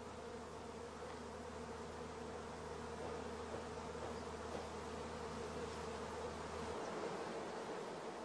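Honey bees from several brood chambers, packed into a single hive box, give off a dense, steady buzzing hum. It is close and continuous, with no voices.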